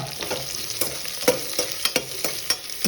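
Sliced onion fries in a pan under a continuous close sizzle, with a spatula stirring and scraping in quick irregular clicks throughout.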